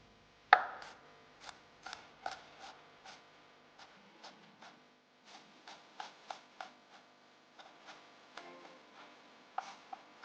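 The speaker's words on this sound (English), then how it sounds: "Finally, mince about 3 to 4 cloves of garlic." Knife mincing garlic cloves on a cutting board, an irregular run of light sharp taps with one louder chop at the start, close but quiet, no speech.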